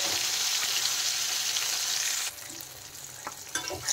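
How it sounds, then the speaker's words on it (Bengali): Rohu fish belly pieces sizzle loudly in hot oil, a bright steady frying hiss that drops in level partway through as the pieces are stirred and turned, with a few clinks near the end and no talking. "আর এই মাছ কিন্তু অনেক কড়া করে ভাজতে হবে"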